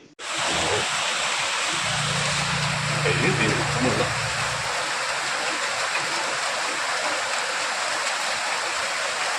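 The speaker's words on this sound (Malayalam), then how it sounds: "പുഴയിൽ ശക്തമായ ഒഴുക്കാണ് അനുഭവപ്പെട്ടിരുന്നത്" River at Nedumkayam flowing with a strong current, a continuous loud rushing of water close by, with someone talking over it for a few seconds early on.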